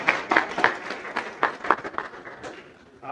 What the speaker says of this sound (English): I wish you hadn't applauded